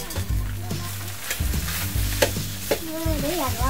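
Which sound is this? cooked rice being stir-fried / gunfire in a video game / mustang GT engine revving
cooked rice being stir-fried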